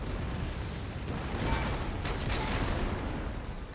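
Heavy cannon fire rolls through a battle in Empire: Total War, a dense and continuous rumble with repeated booms overlapping at steady loudness and no voices over it.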